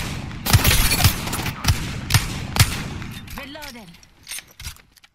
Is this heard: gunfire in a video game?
yes